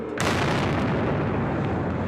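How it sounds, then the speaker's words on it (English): A bomb explodes near the Boston Marathon finish line on Boylston Street, producing a sudden loud blast followed by a sustained, roaring wash of noise outdoors. "when the first explosion went off on Boylston Street"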